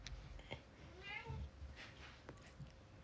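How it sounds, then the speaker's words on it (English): A cat's meow, a short rising-and-falling call in the middle, heard indoors under background noise, with faint talk around it. "Sorry, my other cat showed up."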